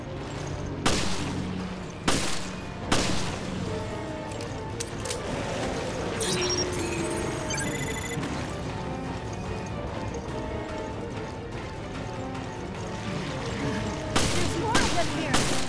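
Sustained gunfire in the Resident Evil Revelations video game, with broadband bursts in quick succession over a steady din of game noise and a few sharper shots standing out near the start and end.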